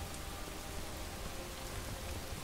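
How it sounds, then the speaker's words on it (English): Rain falls in Skyrim Special Edition as a steady, even hiss of drops that fills the scene without pause, moderately loud and continuous, with no voices over it. "Stopping now would be ridiculous because the rain might not pass."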